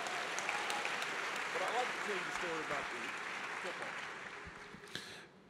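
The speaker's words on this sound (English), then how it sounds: "That deserves a round of applause" An audience at a Black College Football Hall of Fame ceremony gives sustained applause that fades toward the end, with some voices and cheers mixed in.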